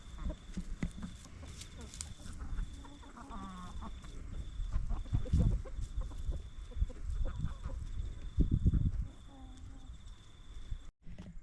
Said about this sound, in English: Be kind to each other, roosters.